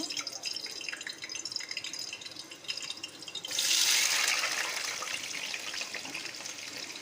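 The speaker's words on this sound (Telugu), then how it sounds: "అది ఆయిల్లో బంగాళదుంపలు వేస్తున్నాను అన్నమాట" Potatoes slide into hot oil in a home kitchen, and after a few seconds of light crackle the frying swells into a loud, close, continuous sizzle that settles to a steady bubbling hiss.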